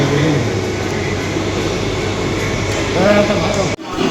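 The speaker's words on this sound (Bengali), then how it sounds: "আর ট্রেন চালু হয়ে গেছে, ইঞ্জিন চালু হয়ে গেছে, ইঞ্জিন চলছে না, চলছে, আওয়াজ হচ্ছে।" A steady low rumble of a running train engine fills the clip, with voices talking over it, then a sudden brief dropout near the end.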